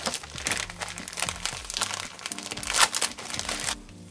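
Packaging around a Wild Grass Type 1 scenery mat for scale model dioramas is opened. Dense, close crinkling and crumpling of plastic goes on continuously for about four seconds, then stops.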